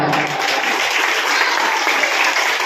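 A large crowd claps loudly and continuously, a dense wash of applause with no pauses.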